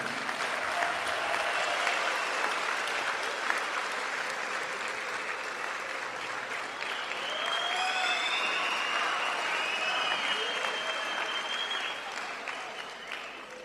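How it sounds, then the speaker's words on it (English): Audience applause at a political party's first-anniversary gala dinner, a sustained dense clapping from a large crowd lasting throughout, with scattered cheers and whistles over it before it slowly fades toward the end. "give a round of applause to President Zuma for having founded Umkhonto weSizwe Party."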